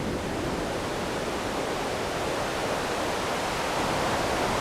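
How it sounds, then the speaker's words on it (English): Steady, dense hiss of rain synthesized on a DSI Pro 2 synthesizer, constant and fairly loud, with no pauses or voices. "So now I can bring the rain up."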